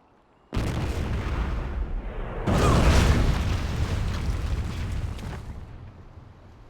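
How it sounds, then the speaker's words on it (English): Cannon fire in the video game Jade Empire: a sudden heavy boom that swells into a second, louder blast and a long rumbling roar, then slowly fades. "Cannon fire, look out!"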